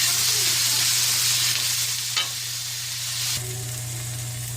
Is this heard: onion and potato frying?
yes